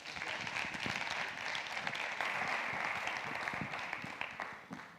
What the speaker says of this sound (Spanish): Me gustaría recibir con un gran aplauso a Pablo del Río Martínez.